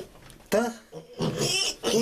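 A piglet squeals in loud, strained bursts while being treated for a deep wound and injured tail on a farm, several sharp cries in quick succession with a few short voice sounds.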